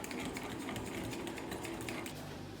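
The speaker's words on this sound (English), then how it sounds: "whisk vigorously to get rid of all the lumps" A whisk beats savoury vegan pancake batter vigorously in a bowl, making a fast, steady, close clicking rhythm with no pauses and no talk.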